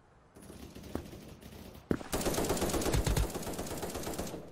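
Gunfire in the video game Krunker: a couple of single shots, then a long rapid automatic burst that rattles loudly and continuously to the end of the clip, with no speech.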